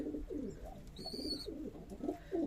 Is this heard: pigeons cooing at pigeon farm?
yes